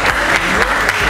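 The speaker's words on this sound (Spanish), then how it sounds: "Fuerte el aplauso para ella." Loud audience applause greets a contestant at a song festival competition, a brief, dense, continuous wave of clapping close to the microphone.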